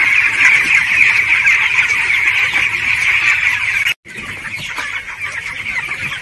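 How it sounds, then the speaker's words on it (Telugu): A dense, loud, continuous chorus of broiler chicks about 18 days old peeping and clucking inside a poultry farm shed. The sound breaks off briefly near the end and then carries on. "ఈ కోడి పిల్లలు సుమారు 18 రోజుల వయసు గల పిల్లలు."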